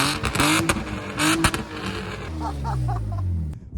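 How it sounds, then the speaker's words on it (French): An Audi S4 B6 with its 4.2-litre V8 starts up, giving a loud cranking whir and catch before settling into a deep, rumbling idle with rising and falling revs, recorded up close with no talk. "Mec, tu peux démarrer ton auto là."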